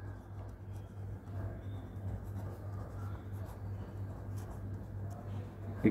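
Pen scratching steadily across paper while an equation is written out by hand during a maths lesson, a soft continuous scribble over a low background hum with no talk.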